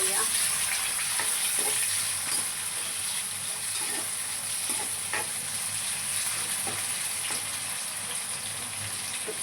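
Chopped onion and tomato frying in a pan with oil while being stirred, a steady close sizzle with scraping spoon strokes at intervals and faint talk in the background.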